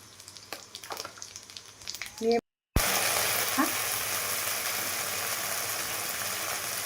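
Five-spice tempering hits hot oil after a short gap, bursting into a loud, dense, steady sizzle up close; before the cut, quieter kitchen clatter and a voice are heard.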